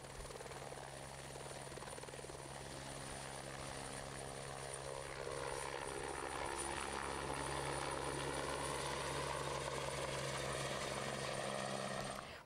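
Helicopter flying overhead, a steady loud rotor and engine roar that grows slightly stronger midway and persists throughout without speech.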